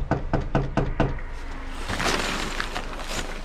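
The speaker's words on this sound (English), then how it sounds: "Knock on door." Five sharp knocks on a door in quick, even succession, followed by muffled shuffling and movement in the room.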